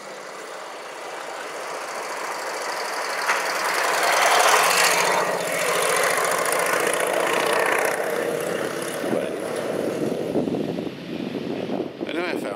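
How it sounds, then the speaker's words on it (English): Several antique motorbikes pass by on a road near Stamford Bridge, a broad engine roar rising and swelling around the middle before easing off with rougher bursts, fairly loud outdoors with faint voices in the background. "I found a whole load of antique bikes going by."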